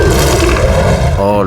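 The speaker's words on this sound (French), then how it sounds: "Quand un grognement menaçant se fait soudainement entendre, Jean Moustache décide de rester en arrière" A T-Rex roar from the film Jurassic Commando, a loud, dense, growling blast that fills the whole clip and ends in a rising tonal cry.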